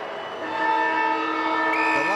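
A loud, sustained end-of-game siren at an Australian football match blares for about two seconds, a steady harmonic horn tone that shifts pitch slightly near the end.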